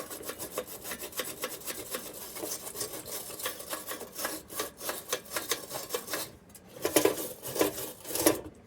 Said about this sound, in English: but this is a brass brush, and for any metals that are harder than that, it scratches it very little.